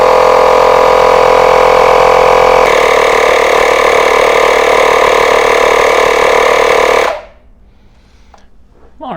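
A Makita 18V LXT ADMP180 cordless inflator runs loud and close while filling a trailer tire, a steady buzzing motor drone with a slight shift partway through, then cutting off abruptly into near silence followed by faint handling noises.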